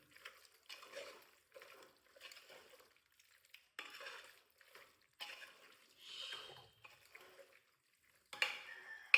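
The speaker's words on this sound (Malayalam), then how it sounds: "നന്നായിട്ട് ഒന്ന് ഇളക്കി കൊടുക്കാം, ഒന്ന് പിടിക്കട്ടെ." Beef masala is stirred in a pan with soft, repeated scraping and shuffling strokes in an uneven rhythm, faint and close, with no talking.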